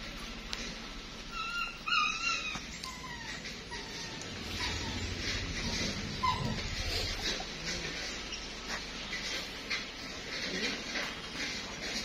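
Dogs whimper and yip with a few short barks over a steady background, the cries rising and falling irregularly across the stretch, with faint bird chirps in the mix.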